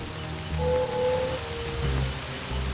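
Rain pours steadily in Aliens: Eradication, a total-conversion mod for Doom 2, a dense close patter over a low rumbling hum that swells and eases slightly, with no speech.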